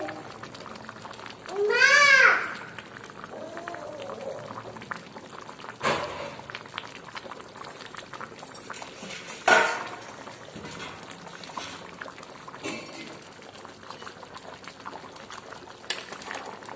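A pot of village-style Nellore fish curry (chepala pulusu) simmers at home with a soft, continuous bubbling. Brief louder bursts and clatters break in, and voices are heard at times.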